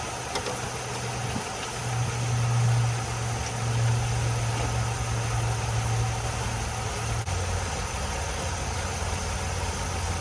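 A 1978 Chevy Malibu that sat unused for 23 years runs steadily as its transmission is worked through the gears, giving a continuous low engine drone with a faint rise and fall and a close, even rumble throughout.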